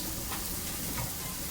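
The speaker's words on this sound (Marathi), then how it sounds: "ते तव्यावरती मी फ्राय करून घेणार आहे. बघा, इथं तेल टाकून मी सगळे तव्यावरती ठेवून घेते" Bitter gourd pieces frying in oil on a hot tawa give off a soft, continuous sizzle and faint crackle, steady and fairly quiet throughout.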